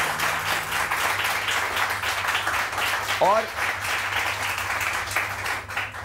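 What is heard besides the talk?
studio audience applause for guest Sara Sarfaraz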